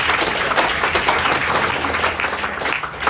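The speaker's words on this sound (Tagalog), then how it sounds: "Malakas na palakpak para kay Jesus." A church congregation applauds in a dense, steady wash of clapping that carries loudly through the whole moment with no pause.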